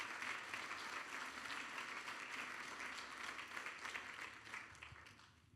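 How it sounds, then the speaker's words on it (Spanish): Church congregation clapping in praise during a Spanish-language sermon, a faint, distant but continuous wash of many hands that fades out at the close. "Dale un aplauso al Señor"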